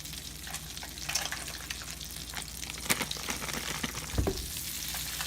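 Two sticks of butter sear in a preheated pan with a constant crackling sizzle, punctuated by occasional sharp pops and a clink near the end.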